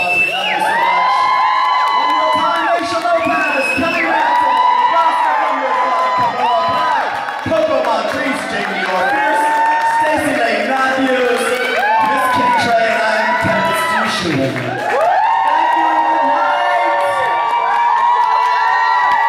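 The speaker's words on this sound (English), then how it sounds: "Give yourselves a round of applause." Drag festival crowd in Nottingham cheering, whooping and shouting continuously, with music and an amplified voice running over the noise throughout.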